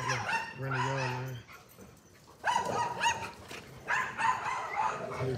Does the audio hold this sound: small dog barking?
yes